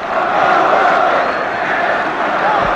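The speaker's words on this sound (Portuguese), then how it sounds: "A torcida do São Paulo grita, queremos jogador" São Paulo supporters in a packed stadium during a 1997 Brazilian league match against Palmeiras, chanting loudly in unison as a dense, continuous roar of voices.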